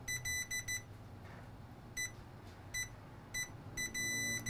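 A multimeter beeps in short repeated bursts, some brief and some longer, during a continuity test on a Nintendo Switch circuit board. The tones are fairly faint over a quiet background hum.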